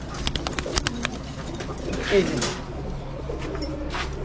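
Pigeons coo softly in a loft among many birds, their low calls running under nearby talk and other bird chatter.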